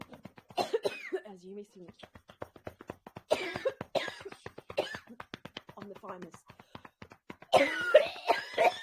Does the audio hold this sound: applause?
no